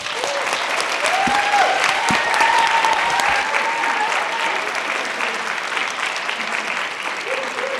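A room full of people at a Barnard College talk applauds warmly and steadily, the clapping sustained for several seconds with a few cheers mixed in.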